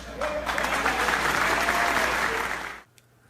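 A crowd bursts into dense, loud applause that holds steady for nearly three seconds, then cuts off abruptly into near silence.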